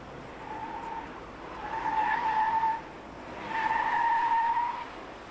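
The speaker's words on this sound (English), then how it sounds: "a squealing tire is a happy tire, so a little bit of tire noise is good" Tires on a Saab squeal in two drawn-out, moderately loud bursts as the car slides through corners on a track, with engine noise running underneath.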